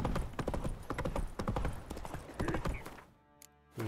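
Roach, the horse in The Witcher 3: Wild Hunt, trots with a steady run of hoof clip-clops under game ambience and someone talking. Near the end the hoofbeats stop, followed by a short quieter stretch and a brief final thump.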